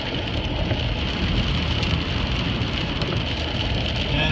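Steady rain falls on a street, a dense, even hiss of drops on wet surfaces with faint traffic underneath, constant and close throughout.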